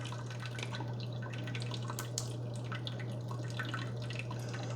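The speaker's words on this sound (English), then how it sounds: "So as soon as I close that lid, we got coffee coming out." Coffee drips steadily from a Bunn Speed Brew Select 10-cup coffee maker just after the lid closes, a continuous close trickle with a low steady hum beneath it and no talking.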